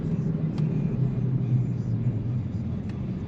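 A car engine runs steadily while driving, with the throttle feathered on and off during a fuel-system cleaning, giving a low continuous rumble that swells and eases slightly and stays fairly close and even.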